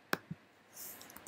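A computer mouse being clicked, with two sharp, close clicks near the start and a few fainter ticks after, quiet and with no talk.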